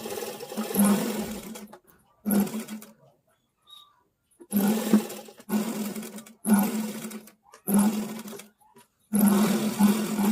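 A sewing machine stitches a belt onto a blouse in several short, loud bursts of rapid whirring, separated by brief pauses of near silence.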